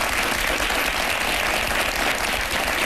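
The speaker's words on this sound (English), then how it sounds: "Give him a big round of applause" A studio audience claps and cheers for a talk-show guest, dense continuous applause at full volume with no voices standing out.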